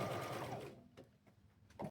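A sewing machine runs steadily, stitching a hem along old curtain fabric, then stops, with a few faint clicks and a short burst of stitching near the end.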